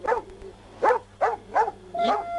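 A police dog barks during an arrest, five loud, close barks in an uneven rhythm with short gaps between them, over a low steady hum and with no talk.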